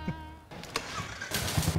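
A custom-built superbike engine catches and starts with a quick burst, then a buzzy, uneven idle revving close by, heard alone without talk.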